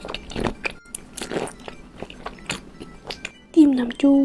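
Eating raw shrimp marinated in fish sauce, with close crunchy bites and chewing, while someone talks throughout.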